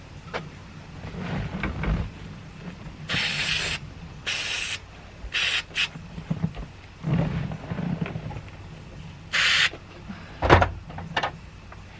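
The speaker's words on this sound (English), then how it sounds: "spray a little bit" Short hissing bursts of aerosol spray, several in a row with pauses between, loud and close, with some handling noise.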